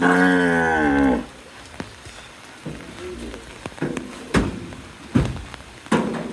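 A cow moos loudly and close by for about a second as cows are loaded onto a truck, followed by scattered heavy thumps and knocks.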